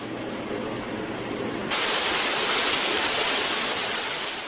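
An artificial indoor waterfall at a hospital gives a steady, broadband rush of falling water that grows slightly louder and brighter partway through, continuous with no voices.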